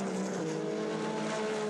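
Race cars at the WEC 6 Hours of São Paulo drone past with a steady, sustained engine whine, heard at a moderate distance without any voices.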